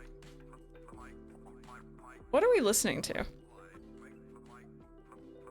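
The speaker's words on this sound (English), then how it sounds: "I keep hearing like quacks in it." Duck quacks in a played recording, a burst of bright, wobbling nasal calls lasting about a second, sounding over soft background music while people talk before and after.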